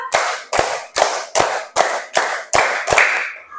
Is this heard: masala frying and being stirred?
no